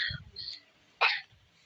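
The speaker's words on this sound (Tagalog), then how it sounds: "Ubo yun." A single short cough bursts out near and fairly loud after a stretch of faint breathy sounds, then trails off quickly into quiet.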